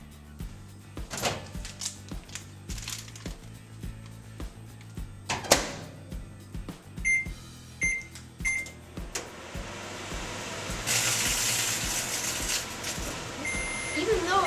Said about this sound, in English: put your SunChips bag in the microwave for 5 seconds